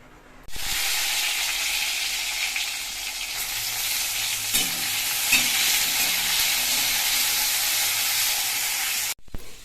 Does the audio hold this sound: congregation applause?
no